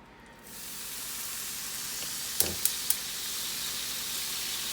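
Butter sizzling steadily in a hot frying pan with chicken steak, a constant loud hiss that starts abruptly and holds, with a few faint metallic clicks partway through.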